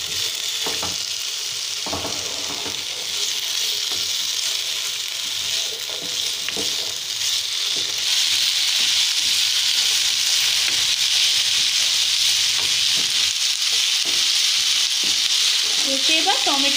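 Potatoes, onions and two green chillies sizzle steadily in a hot pan while being stirred, a dense crackling hiss with occasional scrapes, continuous and close throughout.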